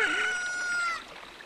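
A chicken on a ranch in the video game Zelda: Ocarina of Time lets out a single clear cock-a-doodle-doo crow lasting about a second, then fades to quiet.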